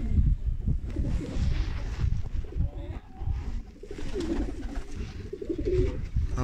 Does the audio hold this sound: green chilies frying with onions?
no